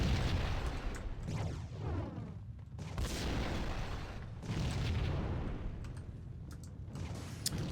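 Repeated bomb explosions in the video game Max Payne, heavy rumbling booms rolling continuously across the whole stretch with sharp cracks mixed in, loud and dense with no pause.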